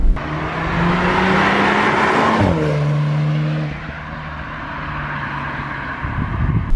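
A VW Golf R accelerates hard along a cambered back road, its engine note climbing loudly, then dropping abruptly at a gear change before pulling again, with wind noise underneath.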